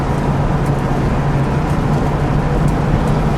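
A white 1965 Ford Mustang 2+2 Fastback with a 289 engine and three-speed gearbox cruising along a road, heard from inside as a loud, steady rumble of engine and road noise without any voices.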